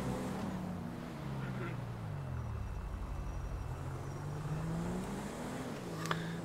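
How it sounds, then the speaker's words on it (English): Car engine in a GTA roleplay game drones steadily and shifts pitch as it accelerates, a continuous loud rumble throughout with a brief click near the end. "Oh, listen to that engine, it purrs."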